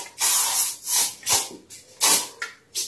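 A cartoon aerosol spray can lets out a series of sharp, loud hissing bursts, about six uneven spurts with short gaps between them, and no voices are heard.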